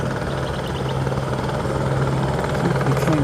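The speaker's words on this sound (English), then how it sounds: "Hearing a helicopter." A helicopter flies near a busy international airport, its steady rotor drone and engine whine holding loud and constant throughout, with no talk over it.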